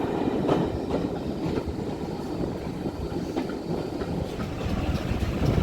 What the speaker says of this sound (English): Seven 828 Bodney Manor on the West Somerset Railway